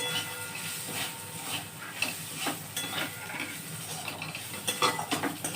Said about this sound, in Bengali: কাঁচা লঙ্কা দিচ্ছি 5খানা